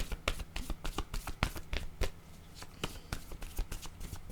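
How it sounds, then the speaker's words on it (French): Tarot cards being shuffled and tapped by hand close by, a rapid, uneven run of crisp flicks and slaps that continues throughout. "Allons-y avec la carte de la corde attachée"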